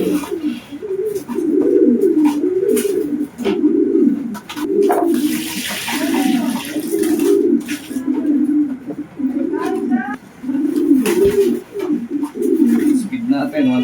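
Racing pigeons at a loft coo loudly and close by in a continuous rolling rhythm, with a brief burst of splashing water partway through.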